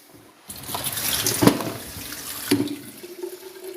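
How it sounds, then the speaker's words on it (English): Water poured from a kettle into a pot of pasta bolognese being cooked, a steady close pour with a couple of brief clinks, running alone for a few seconds. "I'll take my kettle, I'll put a little bit of water"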